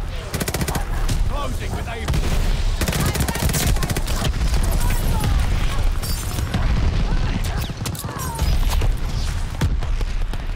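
Dense gunfire in Call of Duty Vanguard, with rapid machine-gun bursts and single shots crackling near and far almost without pause, under a player's occasional spoken comments.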